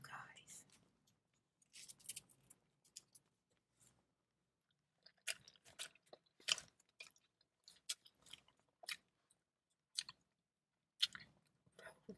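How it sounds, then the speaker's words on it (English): Bubblicious bubble gum is chewed right at the microphone in close ASMR style, with wet smacking and clicking bursts in uneven clusters and short pauses, alongside soft whispering. "I'm going to chew this piece of gum and enjoy this magazine with you."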